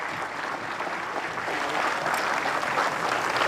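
A crowd at a Reconciliation Day ceremony gives President Jacob Zuma a round of applause: dense, steady clapping that holds for the whole stretch and swells slightly toward the end.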